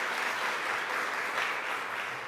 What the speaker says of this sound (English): Let's give Jennifer another round of applause.